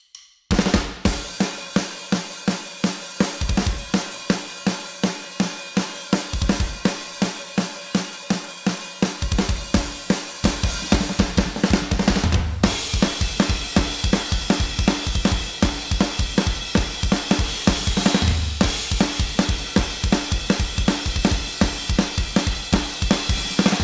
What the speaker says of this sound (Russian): Барабаны были записаны с одного дубля и звучат вот так.